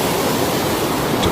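Mataan Creek overflowing after heavy rain from Super Typhoon Ragasa, a loud, steady broadband roar of rushing floodwater filling the whole moment without break.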